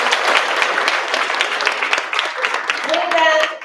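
A round of applause from parents and attendees at a school district board meeting, a loud dense crowd close by that fades toward the end while a voice speaks over it.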